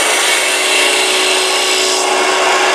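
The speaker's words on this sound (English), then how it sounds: "Using a 3/8" spindle gouge." A 3/8 inch spindle gouge cuts a spinning wooden Santa blank on a lathe, producing a loud, continuous, rough hissing shear with a steady motor hum beneath it.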